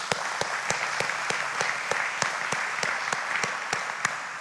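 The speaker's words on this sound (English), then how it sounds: "I have to applaud the Citizens Review Panel." Steady applause from an audience at a community grant announcement for a United Way Citizens Review Panel, sharp clustered claps sustained evenly throughout without any voices.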